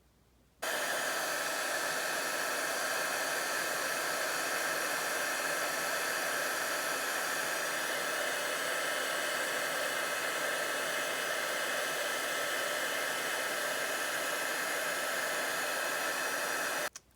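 A heat tool roars steadily for about sixteen seconds, a loud, even blowing hiss with a constant whine as it sets embossing powder on a Christmas card, starting abruptly and stopping at the end.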